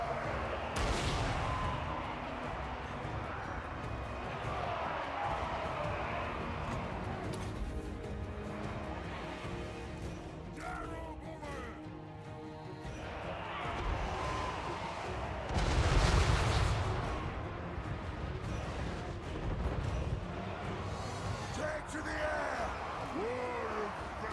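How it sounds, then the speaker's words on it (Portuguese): Cannon fire booms out in a Total War: Warhammer 3 battle between Dwarfs and Vampires, with a few heavy blasts and crashes amid the battle din while someone talks over it. "Calma aí que o canhão tá atirando."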